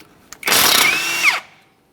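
A power tool with a 17 mm socket spinning off a tie rod nut on a 2011-2020 Toyota Sienna, one loud close whirring burst of about a second that winds down at the end.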